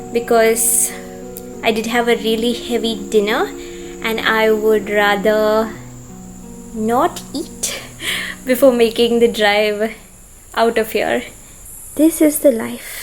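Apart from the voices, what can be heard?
crickets chirping outdoors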